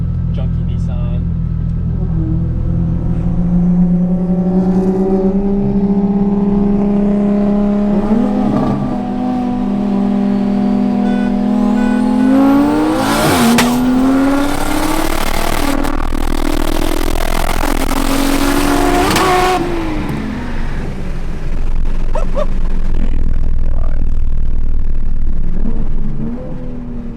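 Nissan R32 Skyline racing a Toyota A90 Supra, with loud engines climbing steadily through gears, rising whine and shift breaks, a burst of harsh roar mid-run, and a voice talking over the noise.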